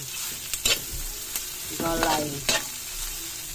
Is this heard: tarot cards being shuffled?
no